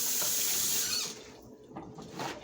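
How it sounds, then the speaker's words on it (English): Kitchen tap water running as a whisk is rinsed in a sink, a steady close hiss of flowing water for about a second, then quieter splashing and dripping with a faint squeak, no talking. "Let me rinse my whisk off."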